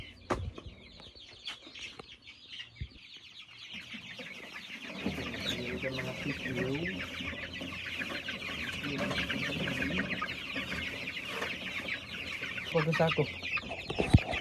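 Hens cluck repeatedly and close by, a busy rising chatter of fowl over a rustling background, with a brief spoken phrase near the start.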